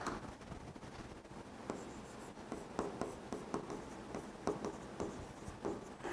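Writing on a board in a maths lesson: irregular scratchy strokes and sharp taps of the pen or chalk, close and fairly quiet, continuing for several seconds without talk.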